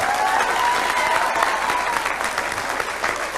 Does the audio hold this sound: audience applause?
yes